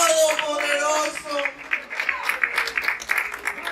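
A church congregation breaks into loud applause at a service. A voice carries over the first part, and then dense, uneven clapping fills the rest of the moment up close.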